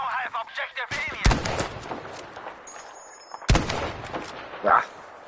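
Gunfire in Battlefield 5 set in Provence: two sharp, loud shots cut through the mix, each followed by a ringing tail, with faint game ambience and scattered effects between them.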